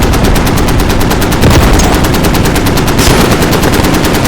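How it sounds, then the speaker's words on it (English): Rapid automatic gunfire in a video game rattles continuously at close range, loud and dense bursts filling the whole stretch with no talk over it. "Somebody's shooting at you guys."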